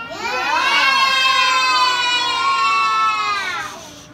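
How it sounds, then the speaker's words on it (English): A crowd of preschool children in a classroom shouting an answer together at full voice, a loud sustained chorus lasting several seconds before trailing off. "You don't have to scream that loud because there's lots of children."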